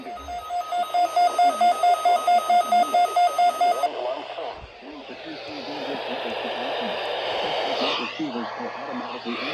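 NOAA weather radio weekly test alert, a loud pulsing electronic tone beeping rapidly for about four seconds, followed by a broadcast voice reading over a broadband background.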